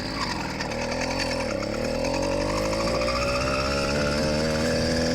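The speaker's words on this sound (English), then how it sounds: "So this will be a pedal assist, wide open throttle, with being slightly nice to the clutch." A motorized bicycle with an LA Hover Bikes Phantom 85 engine held at wide open throttle with pedal assist, a loud buzzing two-stroke drone climbing steadily in pitch and staying close throughout.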